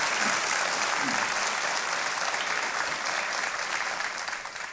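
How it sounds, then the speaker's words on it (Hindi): Studio audience at the KBC quiz show applauding a contestant, a dense sustained wash of clapping that holds steady and fades slightly at the end, with no talk over it. "एक बार फिर तालियां बज जाएं इनके लिए"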